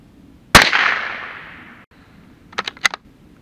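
A rifle shot fired at a spot on a cardboard box target outdoors cracks once, loud and close, with a long fading echo, followed by a few quick sharp clicks of the action.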